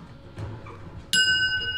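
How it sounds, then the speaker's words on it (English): A bell is struck once, giving a bright, ringing ding that sustains and fades. Faint background bumps and room noise come before it. "ring the bell"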